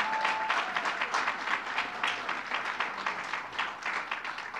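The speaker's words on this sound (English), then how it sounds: "Let's give him a round of applause." An audience at Yeshiva University breaks into sustained applause for the university president, a dense, even patter of many hands heard from within the room.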